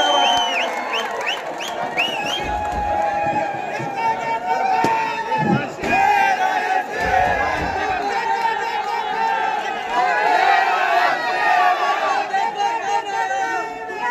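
Crowd at a Congress party political rally in Dhule, with cheering, shouting and scattered clapping rising over loud crowd chatter throughout, a dense sustained roar from a large gathering.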